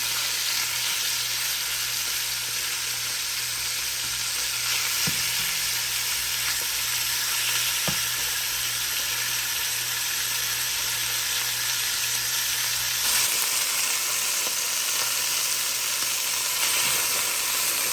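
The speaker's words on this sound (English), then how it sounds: "the pork has got some good brownage going on" Cubes of pork brown in a pan for Kentucky burgoo stew, giving a steady, close hissing sizzle with a faint low hum and an occasional light clink, with no talking.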